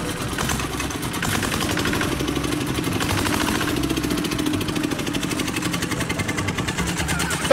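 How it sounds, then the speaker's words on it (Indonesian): Steady close-up drone of a small diesel motor running on its own, a continuous loud throbbing hum with no talk over it. "motor diesel."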